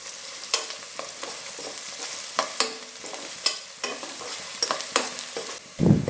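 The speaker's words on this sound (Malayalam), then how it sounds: "അതിനുശേഷം ഇതെല്ലാം ഒന്ന് മൂത്ത് വെളുത്തുള്ളി ഒന്ന് ബ്രൗൺ നിറമാകാൻ തുടങ്ങുമ്പോൾ വരെ നമുക്ക് വഴറ്റി കൊടുക്കാം." Garlic sautés in hot oil in a pan for a lemon pickle, a steady sizzle punctuated by repeated sharp scrapes and knocks of a spoon stirring, close and loud with no talking.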